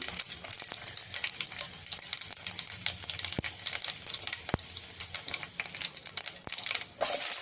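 Mustard seeds, cumin and dried red chilies frying in hot oil for a dal tempering, a steady close sizzle with scattered sharp pops and crackles throughout.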